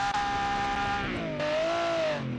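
A slightly modified race car engine, set up for track time attack, holds a loud, steady high-pitched drone nearby, its pitch dipping and climbing again as it revs.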